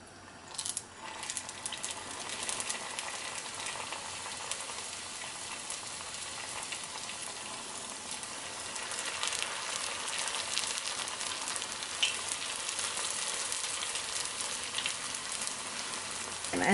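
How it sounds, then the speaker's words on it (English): Spring roll frying in hot oil on a stove, a steady dense sizzle and crackle with scattered sharp pops, close and fairly loud throughout, with no talking. "I'm going to start frying"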